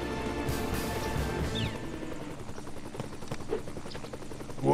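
A helicopter's rotor in Strong Bad's Cool Game for Attractive People thrums steadily and loud in the foreground, with a few brief game effects mixed in and no speech.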